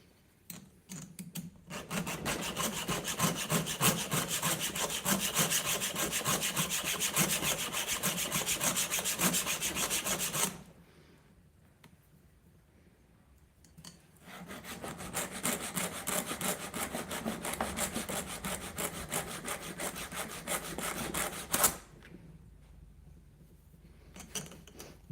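Steady rasping strokes of a file sharpening a Vevor chainsaw chain, two long continuous bursts of scraping separated by a quiet pause, close and fairly loud with no talk.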